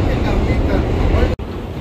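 Subway train in New York City, headed toward the Statue of Liberty ferry, rumbling steadily with dense low-frequency roar and a brief dropout near the end, loud and continuous throughout.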